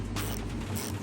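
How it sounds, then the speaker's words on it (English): A ratchet wrench clicks and rasps as it loosens the body mount bolts on a truck during a three-inch body lift, with a short, close burst of mechanical ratcheting. "I started loosening off the body mounts"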